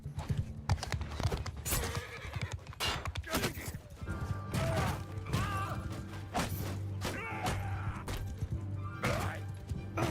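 Galloping horse hooves pound steadily in the video game Mount and Blade 2: Bannerlord, joined by a loud whinny midway and scattered battle clatter, close and continuous throughout.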